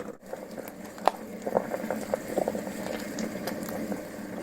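Broth of shiitake and king oyster mushrooms with vegetables, salt and water simmering in a pot, soft bubbling and popping with scattered small plops, fairly quiet and close.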